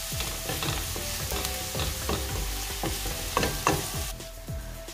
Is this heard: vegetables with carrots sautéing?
yes